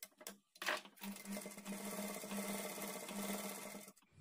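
A sewing machine stitches a blouse lining, running steadily in a close, continuous mechanical chatter for several seconds after a few short starts and stops, then halting.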